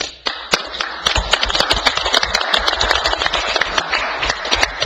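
Loud, dense clapping from a crowd in a meeting room at a township committee meeting, marking an officer's distinction, fills the clip with rapid overlapping hand claps and sharp peaks after a brief quiet start.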